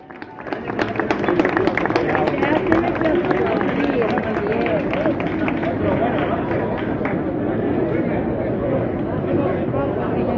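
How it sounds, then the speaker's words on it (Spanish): Sustained crowd applause and cheering for the winners of a pensioners' and retirees' petanque tournament at an outdoor community festival, dense and steady for the whole stretch with a quick swell at the start. "Un aplauso grande para ellos"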